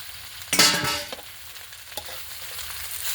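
Chinese kale being stir-fried in a hot pan, opening with a sudden loud burst of sizzle as the greens hit the oil, then a steady close hiss broken by a few spatula scrapes.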